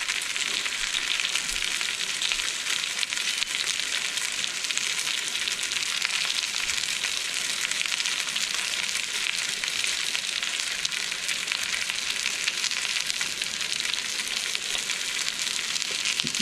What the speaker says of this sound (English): we're gonna let it sear real good